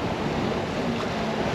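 Steady wind rush and broad wash of sea waves aboard a sailboat running downwind in a 17-19 knot breeze, a continuous close roar with no voices.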